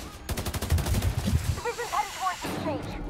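Rapid automatic gunfire in The Division 2, a dense close burst of repeated shots in the first half, followed by game effects and a voice talking over the tail.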